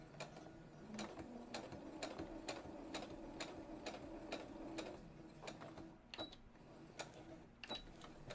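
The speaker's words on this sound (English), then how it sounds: "Let's go ahead and do one back stitch just to secure." A sewing machine running a short back stitch, its needle hammering in an even, rapid rhythm of sharp mechanical ticks close by, slowing and breaking off near the end with a couple of last clicks.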